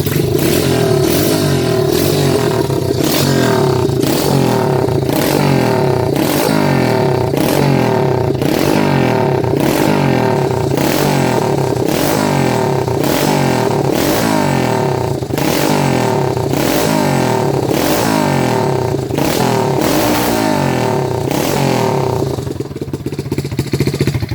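A straight-piped 2017 SSR 125cc dirt bike engine is revved hard and repeatedly up close, loud rhythmic blats rising and falling over a rough idle, easing off at the very end.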